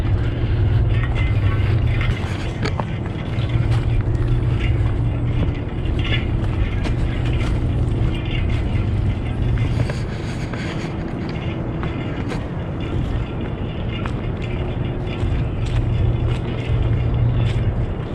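Steady factory drone carries across a hiking trail at the 1000 Islands Conservancy in Kaukauna, a continuous low mechanical rumble with faint clanking texture, distant and unbroken with no one talking.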